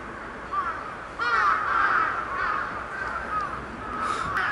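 Crows cawing in the sky beside a park near an old shrine in Japan, several harsh repeated calls at middle distance, alone without talk.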